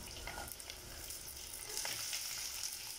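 Bilimbi, ginger and garlic frying in a pan, giving a steady close sizzle with a little stirring that grows slightly brighter toward the end, without talk.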